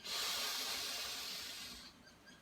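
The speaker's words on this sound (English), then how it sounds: "In through the nose." A long, deep breath drawn in through the nose during a conscious breathing exercise, a steady airy hiss lasting about two seconds and slowly fading, close and fairly soft, alone with no talk.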